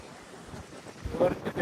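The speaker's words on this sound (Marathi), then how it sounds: "वरून थंड वारं सुटलं त्याने अजून भारी वाटतं इथे." Cold wind blows across the hilltop at Sinhagad Fort, a broad airy rush with buffeting gusts on the microphone that grow louder toward the end.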